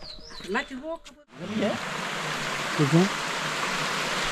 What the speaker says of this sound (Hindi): मेरे गांव का झरना, ये प्राकृतिक झरना, ये आप देखिए खूबसूरत, यहाँ से पानी निकलता हुआ।